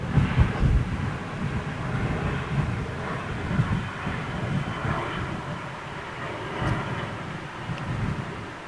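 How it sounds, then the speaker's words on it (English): Airbus Beluga freighter with CF6 engines landing at Toulouse: a steady broad jet roar with low rumble, fairly distant and sustained throughout without any talk. "CF6 power, of course, on the old Beluga"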